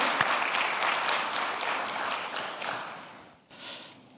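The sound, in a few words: applause for the worship team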